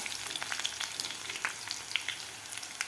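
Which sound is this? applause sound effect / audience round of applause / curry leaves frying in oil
curry leaves frying in oil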